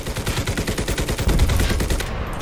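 Soviet soldiers fire in the Enlisted video game, rapid close bursts of automatic gunfire rattling off in a fast, continuous stream that swells louder partway through.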